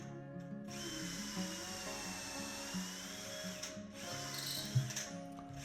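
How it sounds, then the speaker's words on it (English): A power drill bores holes in cabinet rails and stiles through a Dowelmax doweling jig, a steady close whine that holds for several seconds, dips briefly, then resumes. "we're going to use the Dowelmax on the Dowelmax cabinet to drill the holes in the rails and stiles"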